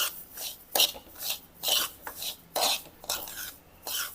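Flour being stirred and dry-roasted in a pan for feeding ants, with repeated raspy scraping strokes coming in a steady rhythm, close and fairly loud, and no voices.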